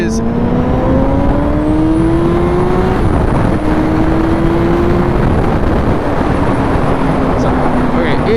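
A Honda CBR600RR sport motorcycle ridden to work, its engine a loud, continuous drone with a rising and falling pitch and heavy wind noise throughout, no talk.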